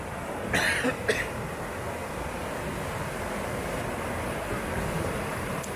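A waterfall rushes in Glen Etive as a steady, full, continuous roar of falling water, with a couple of brief knocks near the start and no talking.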